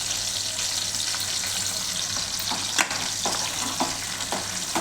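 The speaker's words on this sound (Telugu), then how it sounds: "ఆనియన్స్ మంచి గోల్డెన్ కలర్ వచ్చే వరకు బాగా ఫ్రై చేయాలి." Sliced onions, green chilies and curry leaves fry in a pan with a dense, bright sizzle and a few sharp stirring knocks and scrapes near the end, heard close with no talking.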